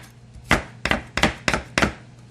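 A knife chops vegetables into thick strips on a cutting board, five sharp, distinct thuds in a steady rhythm, close and fairly loud with no talking.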